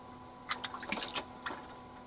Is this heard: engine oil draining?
yes